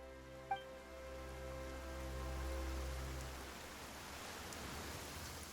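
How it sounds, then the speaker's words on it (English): Sudden rain in Genshin Impact sets in as a steady hiss of falling drops that swells and then holds, with a low musical drone fading out underneath and a brief click near the start. "Why is it raining all of a sudden?"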